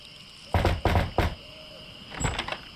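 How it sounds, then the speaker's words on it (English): In the adventure game The Secret of Monkey Island, a wooden door is knocked three times in quick, loud, evenly spaced raps, followed by a softer, duller thud. "I think I'll knock."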